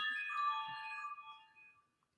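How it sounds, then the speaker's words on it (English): Phone voicemail notification sound, a single short tonal chime that fades out gradually in a quiet room. "That was somebody sending me a voicemail."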